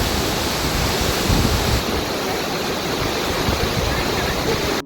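Uski waterfall in Simlipal National Park pours in a dense, continuous rush of falling water, loud and close, with no break across the moment.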